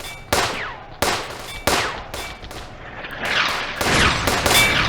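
Gunfire in a WW2 real-time strategy battle against an anti-tank gun: several sharp, loud individual shots a second or so apart, then a busier stretch of overlapping rifle and machine-gun fire with distant booms.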